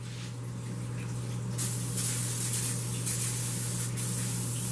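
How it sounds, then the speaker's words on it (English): A can of Pam organic olive oil spray hisses in a steady continuous burst, close and fairly loud, after a quieter start, over a low constant hum in a kitchen. "I like the Pam olive oil spray"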